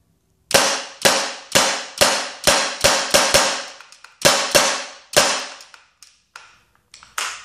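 A Tippmann 68 Special paintball marker fires on high pressure air, giving about a dozen sharp, loud pops in an irregular series, each shot clean and close with brief decays between them.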